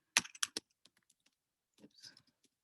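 Keys on a computer keyboard clatter close by: a quick burst of typing, then a few sparse taps, a brief pause and another short flurry of keystrokes.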